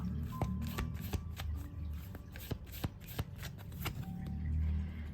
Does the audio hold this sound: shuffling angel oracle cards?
yes